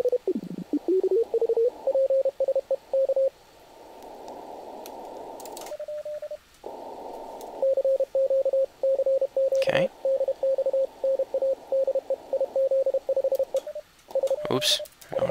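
Morse code CW signals on the 10-meter amateur radio band, heard through a receiver as a steady tone keyed in short and long beeps, with bursts of noise and a shift in pitch as the band is tuned.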